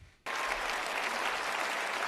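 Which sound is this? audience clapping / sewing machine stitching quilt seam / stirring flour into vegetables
audience clapping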